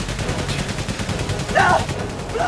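Machine gun fire from the World War I video game 11-11 Memories Untold, a dense, steady rattle of rapid bursts under battle noise, with a brief louder flare near the end.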